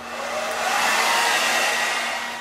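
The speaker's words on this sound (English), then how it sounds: "You're going to take the blow dryer on a medium setting" A hair dryer on a medium setting blows with a steady, even whoosh for a couple of seconds, close and fairly loud, with no voices.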